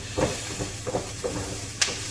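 A steady sizzling hiss of red onions frying in a pan, with a few soft clicks and taps scattered through it.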